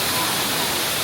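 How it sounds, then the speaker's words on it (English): Waterfall in Bali, a steady, dense rush of falling water filling the whole clip at close range, loud and unbroken with no voices over it. "Yeah, this is the waterfall."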